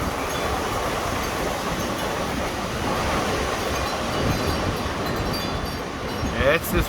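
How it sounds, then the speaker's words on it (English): A strong wind gust roars during a windstorm in Ohio, a broad steady rushing noise that swells slightly toward the end, loud and close with no clear speech over it. "Oh, I hear that wind gust again."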